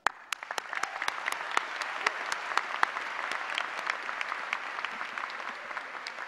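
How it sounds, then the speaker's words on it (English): Applause from a graduation ceremony audience, steady and fairly distant, with a few sharper individual claps standing out near the start and a slow fade toward the end. "I'd like all of us to show our appreciation of a year of creating, organizing, delivering outstanding academic programs, and with a round of applause"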